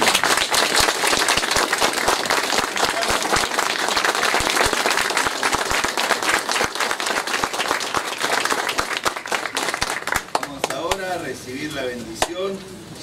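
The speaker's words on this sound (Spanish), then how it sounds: "Un aplauso fuerte a la Virgen." A congregation in a chapel bursts into loud, dense applause during a baptism service for the Virgin of Itatí. The clapping is sustained, then thins toward the end as a voice begins speaking over it.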